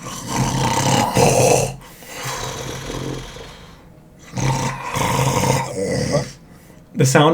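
A voice imitates a very large creature snoring in a hole in a mine during a tabletop game: long growling, rumbling snores in two loud drawn-out swells with a quiet gap between.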